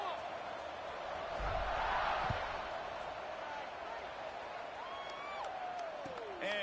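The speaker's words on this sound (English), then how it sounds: "this crowd is buzzing after that last score" Stadium crowd at a football game keeps up a continuous, broad roaring hum that swells briefly then settles, heard from a distance without distinct talk.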